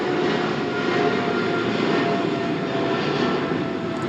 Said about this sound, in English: It's a plane passing by.